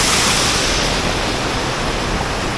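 A small waterfall near a cave site in Mojokerto, a loud, continuous broadband rush of falling water close by with no pauses and no voices.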